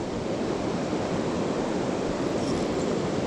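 Steady roaring rush of a waterfall beside a river bank, a continuous broadband wash of falling water heard up close, with no talk over it.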